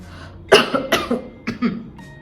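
A short burst of several harsh coughs in quick succession, close and fairly loud against a quiet background.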